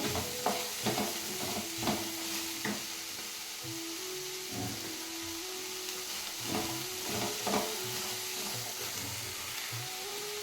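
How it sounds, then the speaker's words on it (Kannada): Onions with green chillies fry in a pan for samosa filling, giving a steady close sizzle with occasional stirring scrapes. "ಈರುಳ್ಳಿ ಜಾಸ್ತಿ ಏನು ಫ್ರೈ ಆಗೋಷ್ಟು ಬೇಕಾಗಿಲ್ಲ, ಸ್ವಲ್ಪವಾದರೆ ಸಾಕು"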